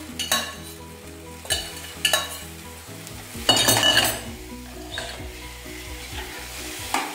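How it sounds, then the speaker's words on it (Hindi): Boiled cauliflower, beans, carrot and peanuts go into a hot pan, sizzling and frying steadily with several clanks and scrapes of a utensil stirring against the pan. "अब जो सब्जियां मैंने बॉईल की थी, गोभी, बीन्स, कैरेट और मूंगफली, इनको भी मैं इसमें ही डाल रही"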